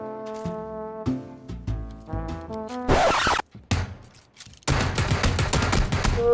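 Gunfire from the video game PUBG bursts out amid game music, with a dense, loud crackling volley near the middle and a sustained heavy barrage of shots filling the last two seconds.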